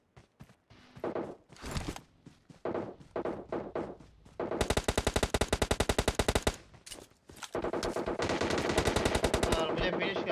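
Gunfire in the PUBG Mobile battle royale game: after a stretch of voice chat, a long rapid burst of automatic fire rattles out loud and close, followed by another sustained volley near the end.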